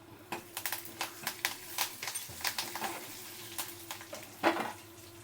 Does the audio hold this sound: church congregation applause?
no